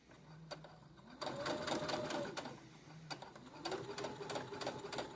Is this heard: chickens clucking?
no